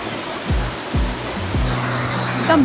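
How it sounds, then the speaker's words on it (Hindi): A steady, broadband rush of falling water, with a few low thuds and tones cutting through it. "क्या साउंड है ना वाटरफॉल का"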